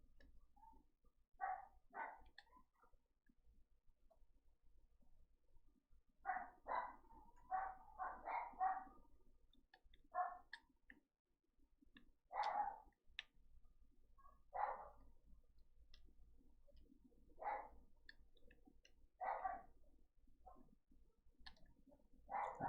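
Dogs bark indoors in repeated short bursts and clusters, fairly faint and roomy, with quiet gaps between volleys and a few clicks.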